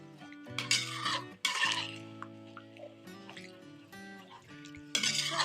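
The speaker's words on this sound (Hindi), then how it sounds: "इसको एक दफा मिक्स कर देंगे" A spoon stirs chopped coriander and kasuri methi through sobat in a pot, giving soft scraping, clinking and wet mixing sounds in uneven bursts, close and fairly clear.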